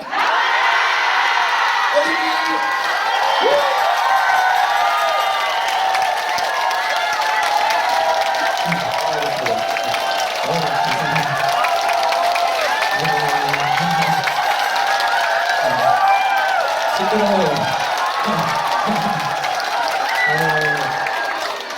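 Concert audience at a year-end show applauding and cheering, with dense sustained clapping, whoops and shouts for over twenty seconds and scattered voices calling out within the crowd.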